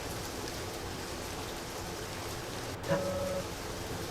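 Steady rain from the video game Deadly Premonition, a dense, even hiss of falling water that holds constant throughout, with a brief tonal chime rising over it near the end.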